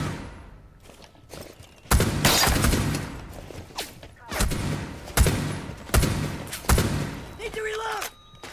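Shotgun fire in a Rainbow Six Siege match, a series of loud, sharp blasts spaced a second or so apart with crashing debris between them and a voice speaking in the middle of the fighting.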